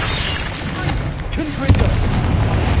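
Confringo blasting spell in Hogwarts Legacy, a sudden loud explosive burst partway through amid ongoing battle rumble and booms, with a voice shouting over the din.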